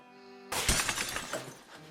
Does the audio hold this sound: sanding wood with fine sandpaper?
no